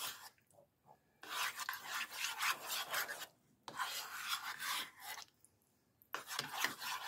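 Burnt ends being mixed in a bowl, giving bursts of close, scraping and rubbing sounds from the spoon working through the meat, broken by short pauses between strokes.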